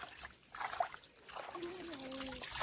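Water trickles softly through a flooded rice paddy in the Konkan countryside, making a faint, close, gentle gurgle. A few brief thin tonal sounds drift over it.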